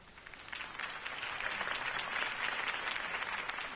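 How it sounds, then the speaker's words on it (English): A crowd in the Batman: The Telltale Series video game applauds after Harvey Dent's campaign speech, a dense steady wash of clapping that holds at even strength throughout. "If only Mr. Wayne, my campaign's largest backer, could have heard that applause"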